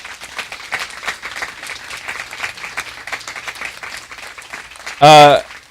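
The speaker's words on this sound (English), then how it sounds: "Will you give them a round of applause?" A dinner audience applauds a mental health discussion panel, steady moderate clapping that ends in a sudden loud burst of a voice near the close.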